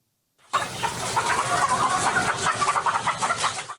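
A crowd of hens clucks continuously in an enclosed coop during a cold spell in Taiwan, a dense, steady chorus of overlapping calls.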